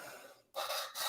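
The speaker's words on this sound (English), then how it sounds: "I'm just sitting here sanding away on some plastic." Steady rasping scrape of plastic being sanded by hand, a continuous abrasive rub that stops briefly for a moment and then resumes close by, loud and alone.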